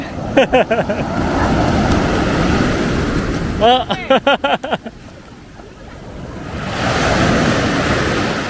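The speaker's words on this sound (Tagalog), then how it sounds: "Lakas ng alon ah." Strong ocean surf at an island beach roars as a broad wash, rising again near the end, with heavy wind buffeting the microphone and bursts of people talking and exclaiming over it.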